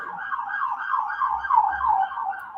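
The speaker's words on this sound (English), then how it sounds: "There's a siren here to announce the presence" An emergency siren wails in a fast, repeating up-and-down sweep, steady and fairly loud, with no voices over it.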